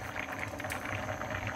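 Milk and carrot halwa simmering on medium-low heat, giving a soft, steady bubbling hiss throughout, faint and close.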